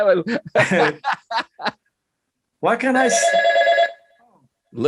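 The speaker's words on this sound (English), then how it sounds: "That's my phone." A telephone rings in a single sustained burst of a little over a second, loud and close, following a stretch of conversation and chuckling between people.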